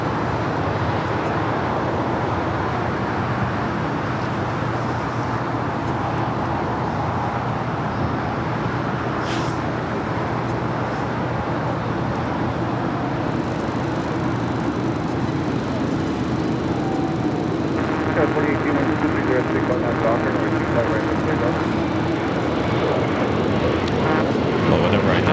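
Spirit Airlines Airbus A321neo jet taking off from the south side at LAX, Flight 478 to Baltimore: a steady, broad engine roar that builds and grows louder toward the end, with airport traffic noise around it.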